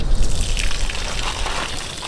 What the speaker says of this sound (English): They love when you turn the faucet on for them.